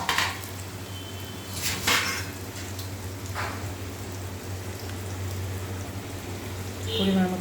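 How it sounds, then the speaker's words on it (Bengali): A lid is lifted off a cooking pot and food is stirred inside, giving a few clanks of metal at the start and again near two seconds, a soft scrape later, and a steady low hum from the stove underneath throughout. "আবার ঢাকাটা তুলে একটু নাড়াচাড়া দিয়ে দেবো।"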